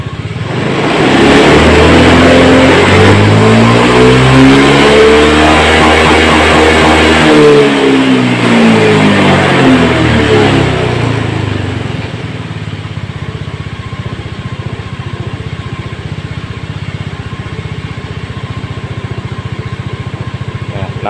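A Honda Scoopy scooter engine is revved hard, rising and falling in pitch across several seconds, then drops to a steady, quieter idle.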